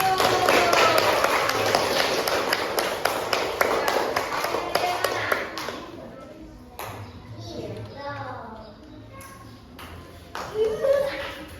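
Schoolchildren in an elementary classroom clap their hands together in a fast, loud burst of rapid claps that tapers off, followed by children's voices and chatter.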